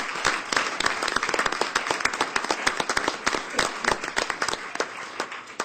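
Audience at an Earth Day awards ceremony giving the 2017 award winners a warm round of applause, dense steady clapping from a sizable crowd, loud and continuous throughout, tapering slightly at the end.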